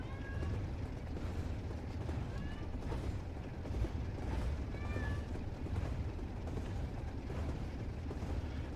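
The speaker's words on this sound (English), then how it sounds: "Oh no, that's the older cat." A cat meows a few times, faint and somewhat distant, over a low rumbling background noise.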